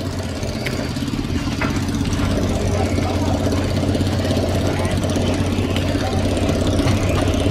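Engine of a smoky boat coming in over shallow water, a steady low mechanical drone with rough chugging texture, loud and continuous from start to finish, with people talking over it.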